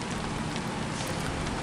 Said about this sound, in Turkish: Bir taraftan da yağmur başladı.